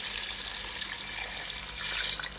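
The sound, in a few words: water being added to the pot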